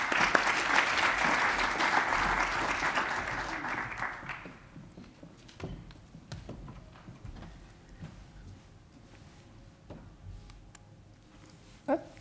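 Audience applause at a 2018 virtual and augmented reality symposium, a dense sustained clapping from a hall crowd that fades out around four seconds, followed by quiet room noise with faint knocks and shuffles.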